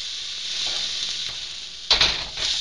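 Meat sizzles and fries steadily in a hot wok as okonomiyaki is made, with a louder burst of frying and stirring noise partway through.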